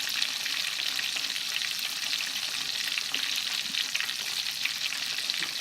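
Chicken fried steak frying in a pan, a steady, close, dense sizzle with crackling spatter that holds evenly throughout, with no talking.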